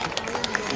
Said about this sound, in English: So let's welcome our students with a huge round of applause.